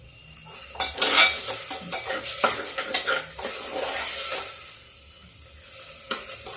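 A mixed dal is roasted in ghee with asafoetida, with a soft sizzle under repeated scraping and stirring strokes from a spoon against the pan, settling briefly before the stirring picks up again.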